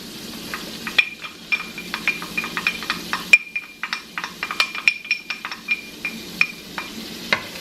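Garlic and onion sauté in a pan, a soft steady sizzle punctuated by frequent metallic clinks and scrapes of a utensil stirring against the pan, close and fairly quiet.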